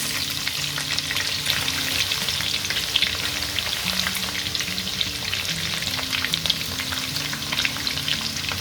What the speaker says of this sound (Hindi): इसे खूब अच्छे से हम गोल्डन ब्राउन कर लेंगे